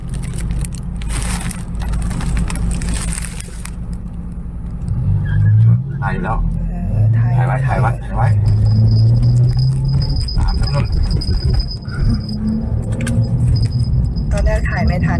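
Cars on a road in Nakhon Sawan, Thailand, with a steady loud engine rumble and road noise throughout, rattles and clinks over it, and people talking excitedly in the cabin.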